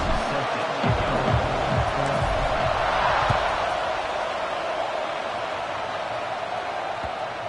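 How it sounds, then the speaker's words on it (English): A dense, steady roar of a large college football stadium crowd in the video game College Football 26 fills the space, a sustained wash of cheering and noise with no clear individual voices. "this crowd is fired up. Listen to this noise here."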